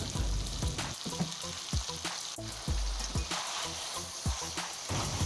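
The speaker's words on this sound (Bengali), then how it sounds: "এবার খুব ভালো করে আমি 2-3 মিনিট একটু কষিয়ে নেব" Spiced, marinated chicken sautéing in a hot pan, giving a steady close sizzle broken by repeated scraping stir strokes every second or so, with no talk.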